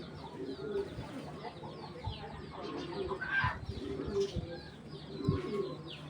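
Female pigeon, a full-breeding red hen, calling in a loft with low throaty coos and clucks repeating through the clip, alongside other birds close by.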